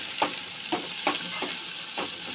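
Chicken liver pieces fry in a pan, a continuous sizzle with about five sharp bursts of stirring and spattering at uneven intervals, close and fairly loud, with no talk.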